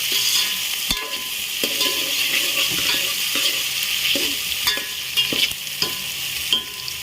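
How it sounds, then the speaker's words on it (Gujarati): Onion, tomato and green chillies fry in oil under a constant close hiss, as a spatula scrapes and stirs through them in regular strokes about once a second. "આ રીતના આપણે હલાવતું જવાનું છે।"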